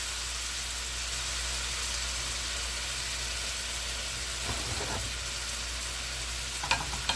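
Beef for stroganoff browning in a frying pan, a steady sizzle carrying the whole time, with a few soft scrapes and clinks of turning near the end.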